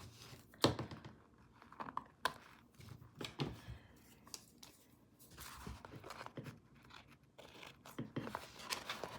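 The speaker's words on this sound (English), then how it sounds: "now I'm just trimming the edges of the two canvases" Repeated crisp snipping and crunching of scissors trimming the edges of painting canvases, close by, in irregular bursts with small scrapes between cuts.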